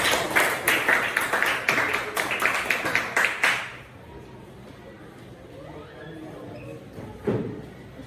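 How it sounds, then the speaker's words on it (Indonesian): A classroom claps for group 4 as they come up to present: a short burst of quick, close hand claps that stops after a few seconds, leaving quiet room noise and a single knock. "Tepuk tangan untuk kelompok 4"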